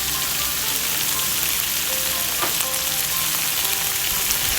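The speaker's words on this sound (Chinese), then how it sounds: "稍微给它翻炒一下。" Garlic chili pork with oyster sauce stir-frying in a wok makes a loud, continuous sizzle close up, with faint scraping of the stir running through it and no voices.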